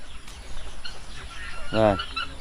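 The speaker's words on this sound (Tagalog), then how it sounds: "Yung pabo, nahuli niya. Hinila yung pakpak." A turkey caught and pulled by its wing lets out a single loud honking squawk near the end, close by, after a stretch of quieter rustling and faint background noise.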